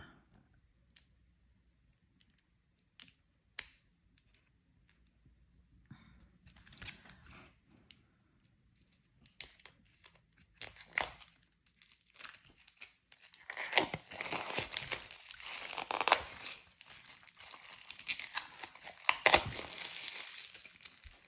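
Faint crinkling, tearing and clicking as the packaging of an Oracle d'Opal card deck is opened, starting as sparse scattered crackles and building into denser rustling toward the end.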